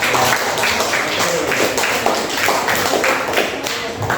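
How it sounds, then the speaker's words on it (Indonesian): A class of students claps for everyone during a school lesson, a loud, busy patter of many hands with some thumping taps, continuous and close throughout. "tepuk tangan untuk semuanya"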